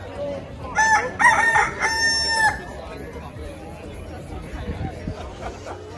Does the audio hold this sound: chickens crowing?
yes